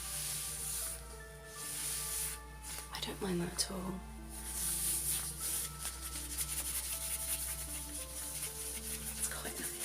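Nylon gloves rub against leather with soft continuous swishing and squeaky friction, close and quiet, while a voice speaks briefly over it.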